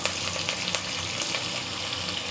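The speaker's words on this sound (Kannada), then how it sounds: "ಸ್ವಲ್ಪ ಫ್ರೈ ಮಾಡ್ಕೋಬೇಕಿದೆ ಇವಾಗ ಈರುಳ್ಳಿ ಕರಿವೆ ಸೊಪ್ಪು" Onion and curry leaves fry in a pan for cabbage palya, producing a dense, close, even sizzle with light crackles and no voices.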